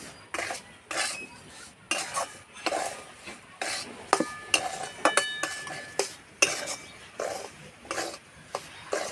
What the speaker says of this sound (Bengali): একটু সময় ধরে ভাজতে হবে তাহলে খুব সুন্দর ভাজা হবে